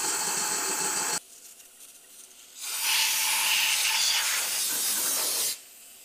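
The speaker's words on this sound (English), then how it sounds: "I went ahead and just inserted the air hose here, as you can see, and just worked on blowing this thing out" An air hose blasts shavings out of a stripped spark plug hole in an engine during a thread repair, giving two loud, steady hissing bursts of about a second and three seconds, separated and followed by quieter gaps.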